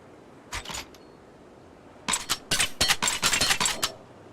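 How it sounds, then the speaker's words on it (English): Empty-weapon clicks from an Unreal Engine 4 game template: a short pair of dry mechanical clicks, then a rapid run of repeated sharp clicks, close and crisp with no other sound. "Empty weapon sounds."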